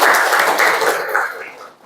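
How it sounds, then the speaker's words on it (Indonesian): A classroom of high school students claps in brief applause, a dense burst of hand claps that fades over about two seconds. "Tepuk tangan."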